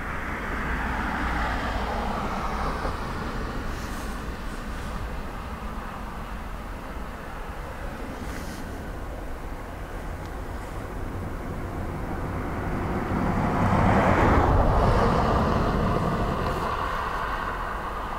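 A Ryanair airliner arriving from Manchester at Dublin Airport makes a distant, steady jet rumble that swells louder toward the end.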